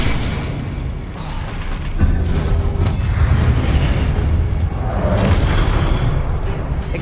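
A Confringo blasting spell explodes in the video game Hogwarts Legacy, a loud, continuous, rumbling boom that swells and stays dense and heavy for several seconds with crackling bursts inside it.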